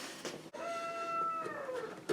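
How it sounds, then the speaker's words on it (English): A rooster crows once in the distance, a faint, drawn-out call that slides downward in pitch and stands out briefly over quiet background noise. "It sounds like the roosters are waking up."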